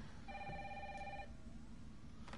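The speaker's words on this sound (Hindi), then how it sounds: "फोन की घंटी बज रही है जिल के" A telephone rings in the Resident Evil 3 Remake video game, one sustained trilling electronic ring lasting about a second at low volume, followed by quiet ambience.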